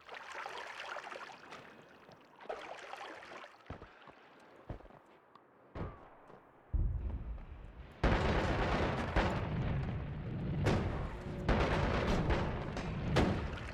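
Missile blasts in a wizard-themed video game, a few sharp booming hits early on, then a loud sustained roar of rumbling explosions and crackling debris with repeated bursts near the end, no talk.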